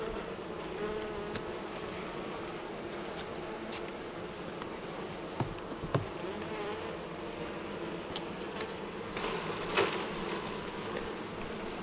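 Buckfast honey bees swarm in a dense, steady buzz at an open hive, a continuous close-up drone with a few brief knocks and clicks from handling the frames, no voices.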